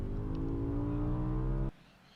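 A BMW M5 engine revs up under acceleration, its steady harmonic drone loud and close for under two seconds before cutting off abruptly to quiet.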